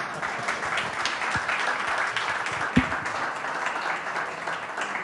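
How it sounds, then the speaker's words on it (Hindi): Applause for Nitish Kumar from a crowd: continuous dense clapping at moderate distance, with a few sharper individual claps standing out, steady throughout. "तालियों की गड़गड़ाहट एक आम सी बात होती है"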